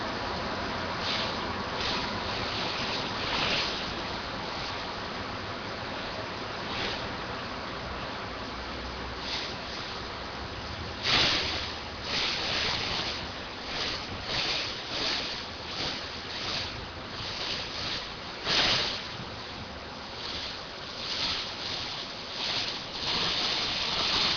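An irrigation sprinkler sweeps in an arc down a bowling green, producing a steady, loud hiss of spraying water with periodic surging pulses as the jet passes, heard alone without talk.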